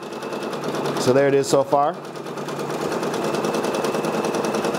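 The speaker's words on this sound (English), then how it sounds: "check out how this design is stitching out" Brother Persona PRS100 embroidery machine stitching a patch at about 600 stitches per minute, a steady fast mechanical buzz running throughout, briefly overlaid by a person talking near the start.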